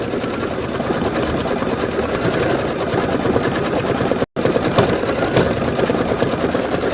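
An embroidery sewing machine runs close by with a steady, busy whine and rapid stitching chatter, briefly cutting out for an instant before continuing at the same pace.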